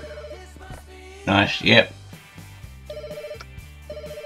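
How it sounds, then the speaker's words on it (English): A desk telephone rings in the Pets Hotel simulation video game, its repeated electronic bell tones sounding clearly in short bursts while a person briefly talks over part of it. "Answer the phone, pick up."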